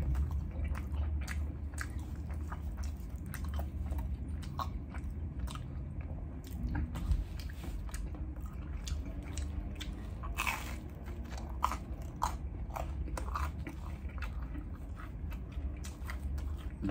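Crunchy New York pizza crust is bitten and chewed up close, with a long run of crisp crackling crunches and softer chewing squishes over a low background rumble.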